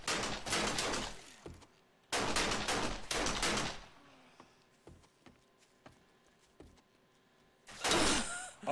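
Gunfire in the survival game 7 Days to Die during a PVP event: two loud, dense bursts of shots open the clip, followed by scattered sharp single reports and another close burst at the end.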